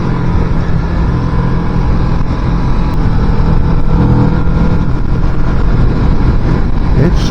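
A 2023 Kawasaki Vulcan S motorcycle is ridden with the engine droning steadily under loud wind rush, heard close from the rider's position, with a voice faintly present.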